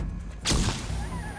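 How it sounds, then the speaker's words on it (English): A flashbang grenade detonating in Call of Duty: Black Ops, a single sharp bang midway followed by a ringing, muffled aftermath tone. "Flashbang!"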